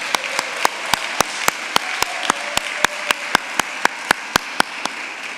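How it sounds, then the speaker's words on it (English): A steady, evenly spaced run of sharp claps stands out clearly over a broad wash of crowd applause as graduates at a physical therapy commencement ceremony stand and applaud their family and friends. "Graduates, I'd like to offer you the opportunity to stand and applaud your family and friends"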